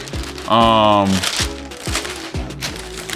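Thick orange Off-White Nike wrapping paper crinkles and rustles in close bursts, with someone talking over and between the crackling handling.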